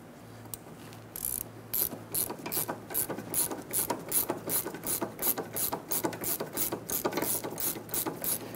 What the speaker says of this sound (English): we're using a 15 millimeter gear wrench here, an 18 millimeter wrench on the inside